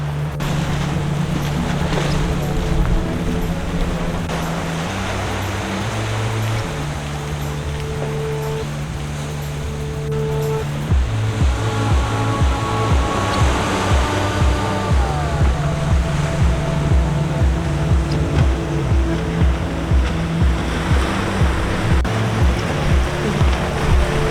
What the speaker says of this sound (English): soft sound of the waves